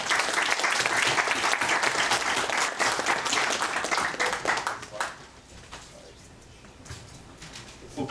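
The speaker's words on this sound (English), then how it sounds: "let's give it a really nice round of applause to Daryl" A workshop audience gives a long, dense round of applause to welcome a crowdfunding speaker. It is loud and steady for about five seconds, then fades to scattered claps and room murmur.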